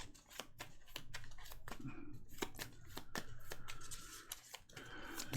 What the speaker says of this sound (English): Are we done shuffling? I think we're done shuffling now.